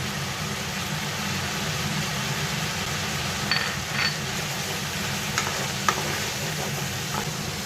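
Grated ginger and cumin powder frying in a pan give a steady, close sizzle with a low rumble beneath, broken by a few light scrapes and clinks of stirring.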